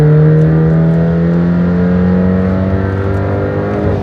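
A 2023 BMW X4 xDrive30i G02 accelerating, its engine intake note droning loudly from inside the cabin, a rising harmonic hum that climbs steadily for about four seconds.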